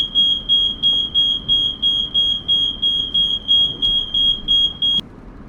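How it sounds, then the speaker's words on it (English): A kitchen smoke detector sounds a rapid series of shrill, high-pitched beeps in a steady rhythm, loud and close, stopping abruptly near the end. "That was my son setting off the smoke detector in the kitchen"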